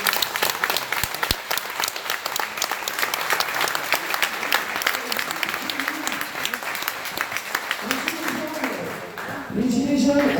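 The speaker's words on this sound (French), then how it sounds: "je tiens à ce qu'on applaudisse ces 2 ans de plus, toutes les personnes qui nous entourent aujourd'hui" A crowd at a Gilets jaunes rally in Hénin-Beaumont claps loudly and continuously, dense sustained applause with some cheering and voices mixed in, thinning briefly near the end.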